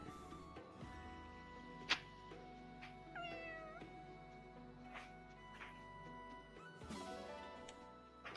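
A cat meows a few times inside a video game, the short calls sitting over steady game music and ambience, moderately loud and close.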